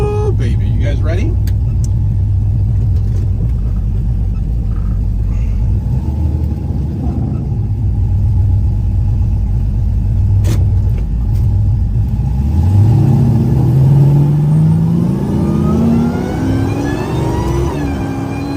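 A Dodge Hellcat muscle car's engine rumbles loudly at close range, then revs up in a rising sweep as the car accelerates hard, while someone talks over the engine noise.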